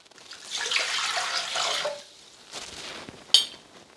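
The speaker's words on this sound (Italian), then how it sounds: "Iniziamo la ricetta mettendo all'interno del boccale l'acqua" Water poured into a Thermomix TM6 mixing bowl for focaccia dough, a soft splashing stream for about a second and a half, then quieter handling and a short clink near the end.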